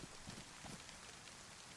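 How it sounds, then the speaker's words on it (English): Rain falls in a survival video game, a soft constant hiss with scattered drop patter and low rumbling texture, quiet and uninterrupted by speech. "Because it's raining."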